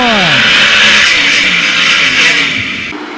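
All Star sprint cars roar away at the start of a heat race at Attica Raceway Park, a loud pack of engines revving hard and rising in pitch as they accelerate, then fading slightly as they move off.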